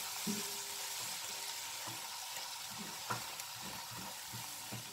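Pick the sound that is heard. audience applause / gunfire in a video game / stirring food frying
stirring food frying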